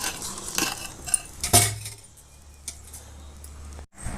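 Spoon stirring banana stem chutney in a bowl: a few sharp metallic clinks and scrapes in the first half, then quieter soft scraping, close by, with no talk.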